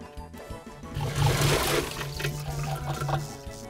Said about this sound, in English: Okay, it sounds like it flushed toilets, and it's not even toilets.